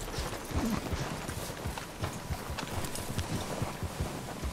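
In Red Dead Redemption 2, a horse's hooves beat a quick, regular clip-clop rhythm throughout, moderately loud and close.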